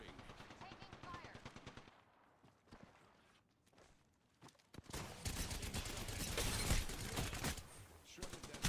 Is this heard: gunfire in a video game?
yes